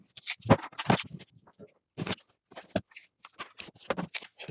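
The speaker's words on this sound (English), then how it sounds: "We have some tape we need to remove." Tape is peeled off printer packaging in a series of close, dry scratchy rips and crinkly bursts, irregular and separated by brief silences.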